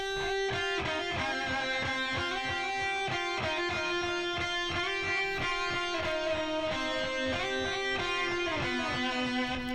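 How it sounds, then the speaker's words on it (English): Heavy distorted electric guitar lead with a quarter-note delay mixed at 40%, repeating echoes trailing dense picked notes in a heavy mix, loud and unbroken throughout with no voices. "And then of course, you got to finish off a lead with a delay,"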